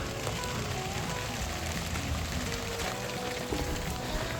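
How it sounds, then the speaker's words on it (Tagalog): Steady rain patters on a surface, a dense, even hiss with scattered drops throughout and no voices. "at saka pumapatak na yung ulan"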